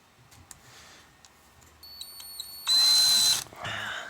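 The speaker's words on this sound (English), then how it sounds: "I'm going to try to drill into the middle of this screw here" After faint clicks and ticks, a power drill whirs loudly for under a second, drilling into the middle of a screw head, then spins down and briefly runs again more softly.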